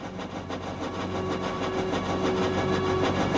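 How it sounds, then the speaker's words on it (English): A steady low rumble of a train rolling past, with a continuous mechanical drone and faint rattling that builds slightly louder toward the end. "Did I just hear a train go by?"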